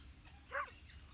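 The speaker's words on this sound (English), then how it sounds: "It sounds like a dog bark." A single short, faint bark-like yelp from a fox or coyote in a video game, quick and high-pitched over a low background hum.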